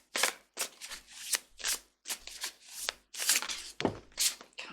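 Tarot cards being shuffled by hand, with a series of about eight brisk riffling bursts separated by short gaps, close and fairly quiet, with no voices.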